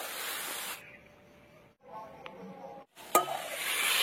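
Spices such as ground cumin paste and coriander powder being stir-fried in a pan, sizzling softly with a steady hiss that drops out briefly, then a sharp clink of a utensil before the frying noise swells again.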